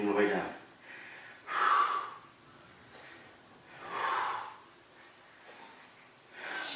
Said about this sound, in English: Breathing all the way down.